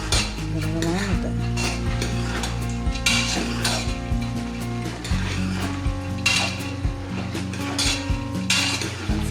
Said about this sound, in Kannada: 5 ಮಿನಿಟ್ಸ್ ಇದನ್ನು ಫ್ರೈ ಮಾಡಿ. ಫ್ರೈ ಆಗ್ತಾಯಿವೆ. ಇದೇ ಥರ ತಿರುಗಿಸ್ತಾ ಇರಬೇಕು.